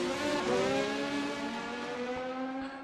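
Race cars running close together on track in a racing video game, a steady loud engine whine with shifting pitch as they run side by side at the same pace.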